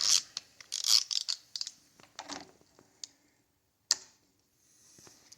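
Torque wrench clicking while tightening parts on a Ruger AR556 lower receiver, a cluster of sharp metallic clicks and ratcheting near the start, then isolated clicks, one distinct snap near four seconds, close and alone.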